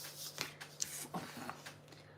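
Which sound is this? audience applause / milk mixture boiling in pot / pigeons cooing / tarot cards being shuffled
tarot cards being shuffled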